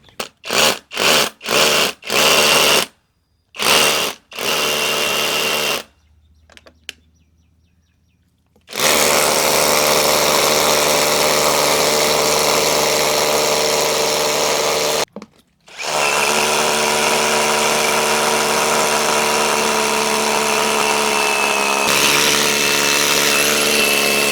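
Dongcheng DCZC22 cordless rotary hammer drill boring into basalt with a 10 mm bit: a few short bursts first, then long sustained loud hammering runs broken by brief pauses, close and steady.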